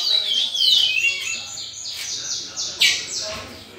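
Rusty-collared seedeater (coleira-do-brejo) singing in short bright whistled chirps and trills, fairly close, with quiet background noise and some faint voices.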